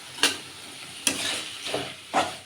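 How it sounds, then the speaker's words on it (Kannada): Palak rice ingredients frying in a pan, with a steady sizzle and four louder bursts of stirring spaced through the stretch, fairly close and with no voices. "ಇದು ಫ್ರೈ ಆಗಲಿ"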